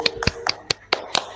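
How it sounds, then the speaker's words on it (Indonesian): A class applauds a student with a brief burst of scattered hand claps, about seven sharp, close claps in quick succession. "Boleh tepuk tangan semuanya buat Aiko."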